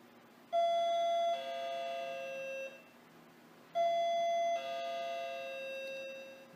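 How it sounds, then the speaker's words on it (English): Plug-in door chime units sound two identical two-tone ding-dong rings a few seconds apart, each bright first note falling to a longer, lower tone, clear and close in a quiet room. "We also have a chime with several chime units around the house."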